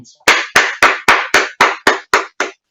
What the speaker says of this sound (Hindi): जोरदार ताली के साथ डॉक्टर निशा शर्मा का